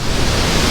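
Water churns and bubbles somewhere below among slippery rocks at the Tsoi-Pede necropolis in Chechnya, a brief, steady, close rush of broadband noise with no voices.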